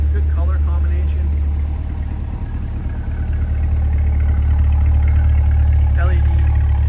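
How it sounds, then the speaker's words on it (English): A 2022 Corvette Convertible 3LT with an NPP exhaust idles in a deep, steady low burble, heard close and continuous, while a voice speaks briefly over it. "here's your NPP exhaust and idle there"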